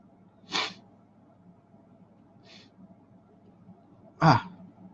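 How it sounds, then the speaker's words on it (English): Two sharp nasal sniffs, one near the start and a louder one near the end, with a faint softer one between, in an otherwise quiet room. "Sniffle attack."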